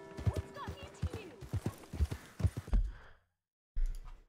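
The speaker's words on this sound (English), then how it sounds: "I just hopped right on my horse" Rhythmic hoofbeats of a horse in Red Dead Redemption 2 clip-clop at a quick pace with a horse snort and mechanical rattles, then stop, followed by a short burst of noise.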